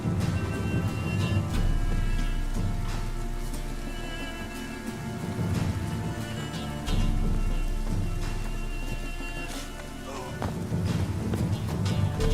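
Rain in The Witcher 3: Wild Hunt, a dense continuous patter of drops on surfaces with low rumbling swells, steady and close throughout the scene.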